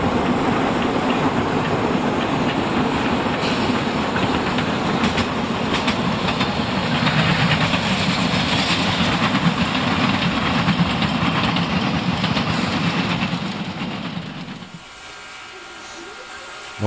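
Narrow-gauge steam locomotive 99 4511 of the Rasender Roland line on Rügen rolls past in autumn, a steady loud clatter and rumble of cars that fades abruptly near the end, leaving quiet surroundings.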